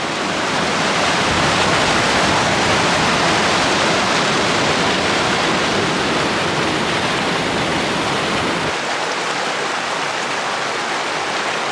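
Creek water rushes over a Pacific Crest Trail crossing, a loud, continuous broadband roar up close, thinning slightly in the low end near the end, with no talking.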